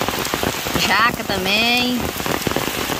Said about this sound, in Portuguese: Olha aí, já está sendo enxurrada forte, viu?